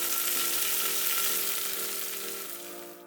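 Sliced tofu, cut about 1 cm thick, pan-frying in plenty of oil, giving a steady, close, loud sizzle that fades slightly toward the end.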